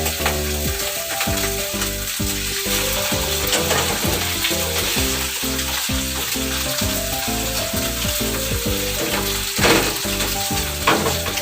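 Pork chops sear in hot oil in a home kitchen pan, giving a loud, dense, steady sizzle that crackles and spits continuously throughout, close up and with no one talking.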